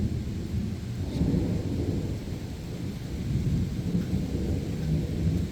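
A low, continuous rumble of rolling thunder swells and fades over steady rainfall, with no one speaking.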